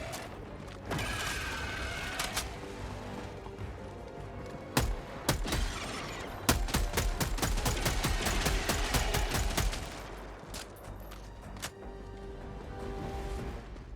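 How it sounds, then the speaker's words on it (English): A marksman rifle in Helldivers 2 fires in a dense run of loud, close, sharply spaced shots over ongoing battle noise and mechanical clatter, with scattered single shots before and after. "this is a marksman rifle that I've managed to unlock"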